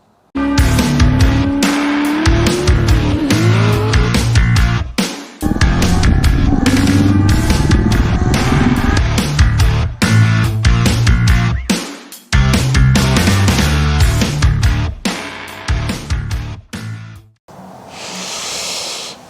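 A GM LS V8 engine swapped into a Chevrolet Camaro IROC-Z cranks and fires up for the first time, then revs repeatedly in loud bursts with a rising tone, settling between blips before cutting off into a brief hiss.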